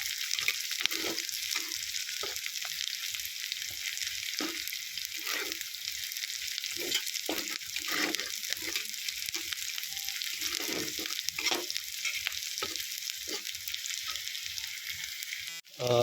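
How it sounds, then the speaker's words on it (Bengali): Onions frying and browning in a pan for a pork curry with radish and potato, a continuous close sizzle with crackling pops and occasional stirring scrapes, steady throughout with no talk. "এই যে পেঁয়াজগুলো এখানে ব্রাউন হওয়া শুরু করেছে"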